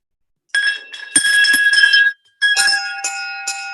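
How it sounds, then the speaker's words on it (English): Several service bells rung by board members at a school district retirement reception, giving bright metallic dings in quick irregular clusters with a short pause, loud, close and ringing out over one another without speech. "take your service bells and maybe give them a ring"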